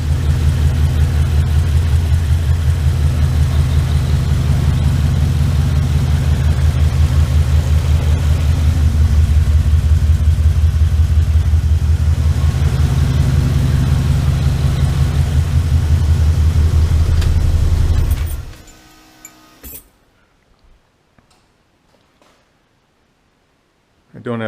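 1989 Ford Ranger with a swapped Ford Coyote V8 running at its first start, with no coolant in it: a loud, steady, deep idle rumble for about eighteen seconds, then it cuts off to near silence.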